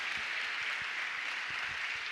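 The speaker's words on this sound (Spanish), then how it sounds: "Con un aplauso." Soft, fairly distant applause from a church congregation welcoming visitors, a brief patter of scattered claps lasting about two seconds with no talk.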